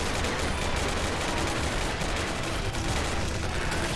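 Dense rapid gunfire from the video game Ravenfield, with overlapping shots forming a continuous loud barrage from start to finish.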